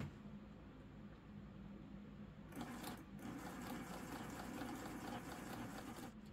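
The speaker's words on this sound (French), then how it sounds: "Ça fait qu'on commence à coudre." A sewing machine stitching fabric for a baby towel hums faintly in a quiet room, starting after a short pause and then running steadily with one brief break.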